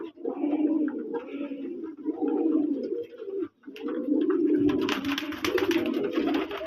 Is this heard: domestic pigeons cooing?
yes